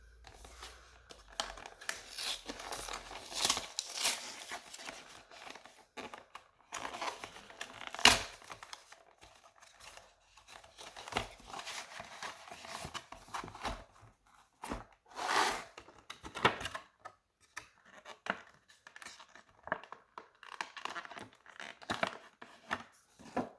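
Plastic wrapping and cardboard of a Magic: The Gathering Ashiok Planeswalker deck from Theros Beyond Death being torn open, with close crinkling, tearing and rustling bursts scattered irregularly throughout.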